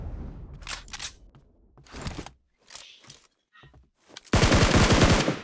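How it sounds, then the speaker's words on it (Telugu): Sniper rifle gunfire in a video game, several sharp separate shots spread across the moment, ending in a loud sustained burst of rapid fire close by, with no voices. "అదే స్నైపర్."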